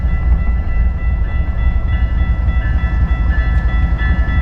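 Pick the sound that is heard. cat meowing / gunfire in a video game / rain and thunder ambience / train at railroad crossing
train at railroad crossing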